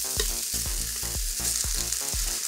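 Ribeye beef frying with vegetables in a hot pan gives a loud, continuous sizzle, with a rhythmic series of stirring knocks and scrapes about every half second.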